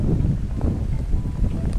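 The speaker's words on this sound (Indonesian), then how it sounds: "ini angin kencang banget ya tuh bisa dilihat anginnya" Strong gusty wind roaring across the microphone during an outdoor test flight of a Visuo Zen Mini budget GPS drone, a dense low rumble with buffeting surges throughout, loud and steady with no voices.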